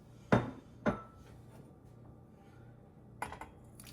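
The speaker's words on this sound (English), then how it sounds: "we're going to pour all of our ingredients" Ingredients, including a splash of orange extract, are tipped into a cooking pot. Two sharp knocks sound close together, then a softer clattering burst follows a few seconds later in an otherwise quiet kitchen.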